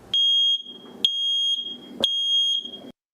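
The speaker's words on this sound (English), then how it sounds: "making sure that your smoke detectors are also working properly" Smoke detector alarm sounding in loud, piercing beeps, three long shrill tones in a regular pattern, with a faint voice-like murmur between them.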